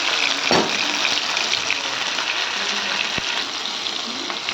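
Chopped tomatoes drop into a pan of onions already fried deep red for a fish curry, setting off a loud, steady sizzle with a burst of hiss near the start and an occasional clink.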